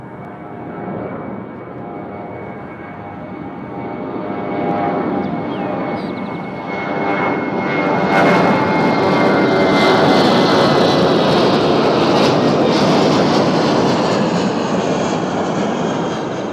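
An American Airlines jet bound for Miami takes off at Nashville International Airport, its engines roaring loud and steady, the whine growing as the roar swells over about sixteen seconds, heard from nearby on the ground.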